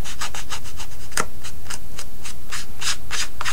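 A brown ink pad is dabbed and rubbed along the cut edges of paper for a 3D floral card, making a loud, close series of short, dry scuffing strokes in an uneven rhythm.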